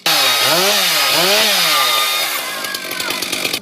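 A petrol chainsaw runs loud and close, its engine pitch rising and falling in revving sweeps, then settling into a rougher, choppier idle with rattling bursts toward the end.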